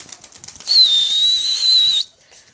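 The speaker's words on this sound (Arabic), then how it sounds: "هاي شباب لي طير راح اكشن." A pigeon flaps its wings close by in a short, loud burst of about a second and a half, with a whistling flutter quality, then quiet.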